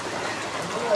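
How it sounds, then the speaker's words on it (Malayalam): Rain falling in a steady, diffuse wash of patter, close and moderately loud, short and continuous. "അപ്പം മഴ പെയ്യാൻ തുടങ്ങി."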